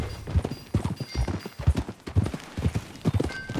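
Horse hooves clip-clop in Red Dead Redemption 2, a steady trotting rhythm of close, distinct thuds running through the whole moment, with no talk over them.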